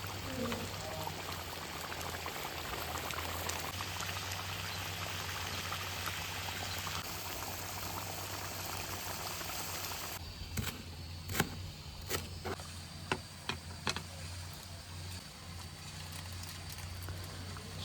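Pork curry gravy simmering in a pot in a village kitchen, a steady low bubbling boil running throughout, with a few sharper clinks and taps near the end.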